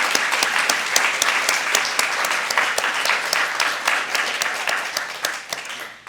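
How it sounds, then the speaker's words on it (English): A sustained round of audience applause at an afternoon art-studio event, dense steady clapping from many hands held at an even level for the whole stretch, with no talk over it. "A round of applause"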